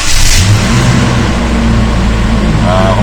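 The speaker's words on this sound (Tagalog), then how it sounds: "Kung mapapansin nyo, yung medyo hindi na ganun kabilis yung ikot ng starter." A Toyota Innova engine cranking with a slightly slow starter and then starting: a short loud churning burst settling into a steady close engine rumble.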